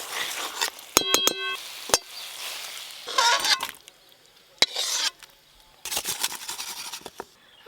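Okra is stirred with mustard paste in a pan, giving scraping and stirring strokes in bursts with clinks of the spoon against metal and short pauses between, close by.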